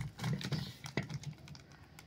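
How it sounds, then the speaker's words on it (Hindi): A knife cuts through pieces of sun-dried mango, making a series of soft, crisp taps and chops at an uneven rhythm, close up and fairly quiet with no talking. "आम अच्छी तरह से सूख गए हैं, अब हम आम को काट लेंगे।"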